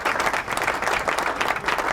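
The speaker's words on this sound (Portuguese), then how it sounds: "Palmas, aê!" Steady applause from a group, dense continuous clapping at moderate loudness with no voices standing out, filling the whole stretch.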